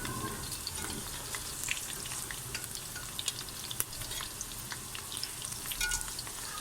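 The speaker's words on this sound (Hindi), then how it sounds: "उसके बाद हम निकाल के प्याज को ब्राउन करेंगे" Onions frying in a pan until brown, made alongside a bhindi fry, giving a steady close sizzle and crackle with a few brief stirring knocks and no talk.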